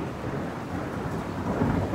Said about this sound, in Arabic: لحظات نزول المطر